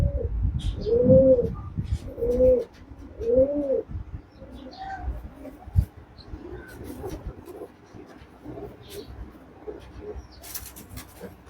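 Andhra pigeons give several loud, close, rolling coos in the first few seconds, followed by softer calls, shuffling and faint background chirps.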